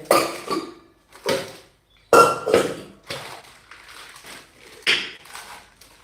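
A thick stainless steel pressure cooker handled up close, giving several sharp metallic clanks and knocks in irregular bursts, with brief pauses and softer rattles between them.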